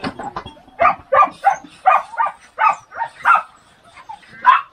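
Herding dogs bark at a mountain sheepfold while driving a flock of goats in for milking, about ten loud, sharp barks in an uneven run, close by and with no talk.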